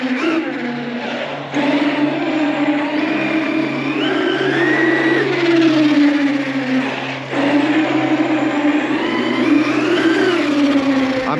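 A Traxxas Funco RC sand car with added lights drives and slides across asphalt, giving a steady electric motor whine with pitch swings and tire scuffing, loud and close, with a brief dip when the throttle eases.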